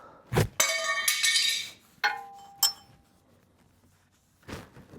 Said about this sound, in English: Let's see if I can chisel it off.